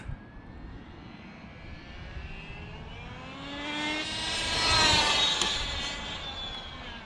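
An Arrma Vendetta 3S RC car on a speed run with speed gearing and wing, its electric motor whining in a rising pitch as it accelerates and passes near, then fading, over outdoor background noise.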